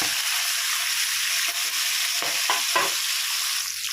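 Fish heads being turned and fried in hot oil, a continuous crackling sizzle with several scraping strokes of a spatula against the pan, close and fairly loud.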